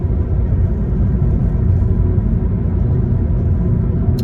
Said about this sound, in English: you get that tyre noise and the wind, you do get that